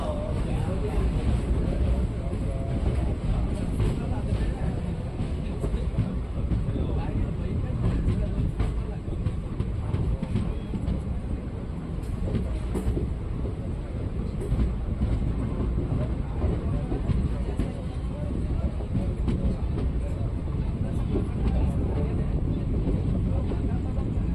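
The Basava Express rumbles steadily along the rails toward Guntakal Junction, heard from inside as a continuous loud clatter with wind noise and faint background voices.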